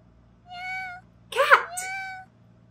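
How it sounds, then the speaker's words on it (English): A cat meows clearly twice, in two drawn-out tonal calls, with a short spoken word between them. "Cat."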